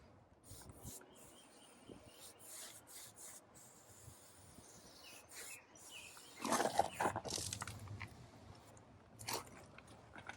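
Bristles of a paintbrush drag and rub along weathered barn wood trim while cutting in paint, a soft rasping scrape that comes in broken strokes and grows louder in the middle, close and alone.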